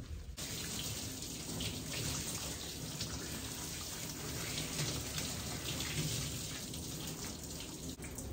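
Steady running water pours continuously during a dog's bath at a grooming session for a doodle, cockapoo or cavapoo, a broad even splashing hiss with no talk.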